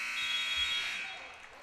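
A sustained electronic buzzer sounds at the end of a quarter in a girls' high school basketball game, a steady tone that fades out over under two seconds amid faint gym ambience.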